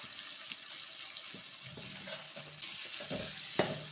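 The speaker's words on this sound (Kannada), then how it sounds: "ಈಗ ಈ ಮಸಾಲೆಯಲ್ಲಿ ಬದನೆಕಾಯಿ ಸ್ವಲ್ಪ ಫ್ರೈ ಆಗಲಿ" Brinjal sizzles in masala in a pan on the stove, a continuous close frying hiss broken by stirring scrapes and a sharp utensil clink near the end, with no talking.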